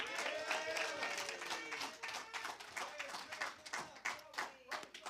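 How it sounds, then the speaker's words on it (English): Graduation audience clapping for a certification ceremony, a brisk crowd applause of many hands, fairly close and loud, with voices and cheering woven through. "So everybody give a hand clap to Mr."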